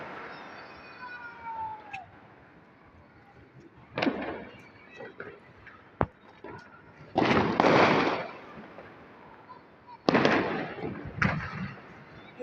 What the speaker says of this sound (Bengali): আতশবাজি